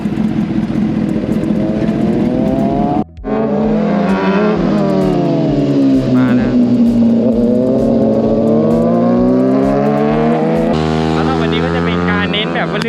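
A Kawasaki ZX10 big bike engine roars loud and close while being ridden on a track, its pitch climbing and falling through gear changes, with a brief cut near the start and continuous droning power throughout.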